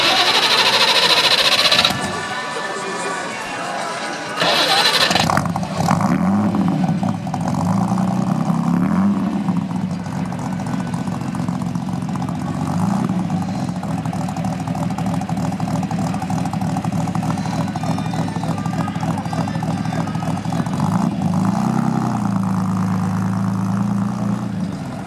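Arnolt Bristol sports car engine cranks, then catches and settles into a steady, throbbing idle that runs on close by, heard outdoors at an American car gathering with faint background noise at the start.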